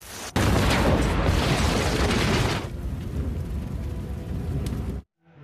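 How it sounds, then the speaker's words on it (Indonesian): A suicide bomb blast in the Samurai X anime: a sudden, massive, roaring explosion that holds for several seconds, thins into a rumbling tail and cuts off abruptly. "anggotanya itu mencoba membunuh Kenshin dengan cara melakukan bom bunuh diri"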